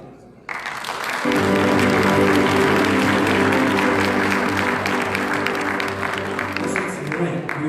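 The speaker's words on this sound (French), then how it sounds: "Un applaudissement." Congregation applause in a Haitian Baptist church in Philadelphia, a quiet room that suddenly breaks into sustained, loud clapping with crowd noise, holding steady before easing slightly near the end.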